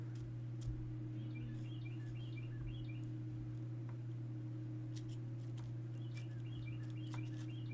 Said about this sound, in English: Do you hear that bird?